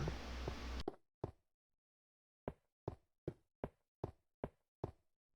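A door in Minecraft makes crisp, hollow wooden clacks: two separate knocks, then a pause, then a quick, evenly spaced run of about seven more, all close and clean against silence.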